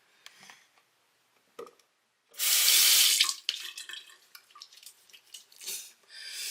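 Tap water runs into a bathroom sink in a short steady burst of about a second, followed by scattered splashes and drips as hands are wet, close and clear.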